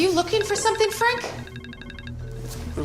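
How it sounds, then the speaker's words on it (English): Tinny melody played from a mobile phone speaker, a short run of electronic tones that follows a brief stretch of a voice talking. "it's music coming from my personal phone"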